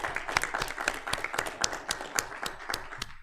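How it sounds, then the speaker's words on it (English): A modest crowd at a city council meeting claps in a sparse, uneven patter of distinct hand claps, moderately near and fairly quiet. "I think that deserves a round of applause."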